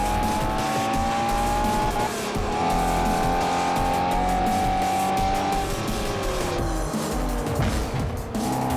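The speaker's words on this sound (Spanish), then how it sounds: "Ojo que se me va el coche." Race car engine howling and tires squealing as the car slides out in Forza Motorsport 4, loud and continuous with rising and falling revs throughout.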